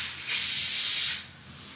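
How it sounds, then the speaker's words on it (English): A single sustained aerosol spray hisses for about a second, close and fairly loud, then cuts off into quiet room tone. "I'm gonna just spray my hair."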